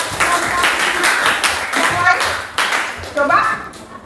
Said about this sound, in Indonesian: berikan tepuk tangan buat yang lain